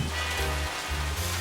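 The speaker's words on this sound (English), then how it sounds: "The rain was coming down in torrents" Heavy rain pours down in torrents with a constant, close hiss of drops spread across the whole clip, while low tonal hums rise and fall beneath it and no one speaks.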